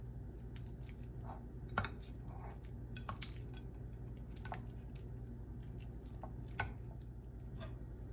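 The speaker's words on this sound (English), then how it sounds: "We're going to get the lime juice in there. You're going to give that a good mix." Spoon stirring lime juice into a bacon, crab and spinach dip, giving soft wet squishing and scraping with a few sharper clinks against the bowl, faint and steady with no talking.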